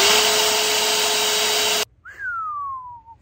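An EGO 765 CFM battery leaf blower roars at full power with a loud, steady rushing whine that cuts off abruptly after about two seconds, followed by a falling whine as the fan spins down.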